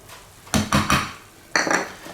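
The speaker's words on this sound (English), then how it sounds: "And we wanna stir all this in." A utensil stirring chicken broth and grated Parmesan in a pan, a few close scraping clatters in short bursts separated by brief pauses, with no talking.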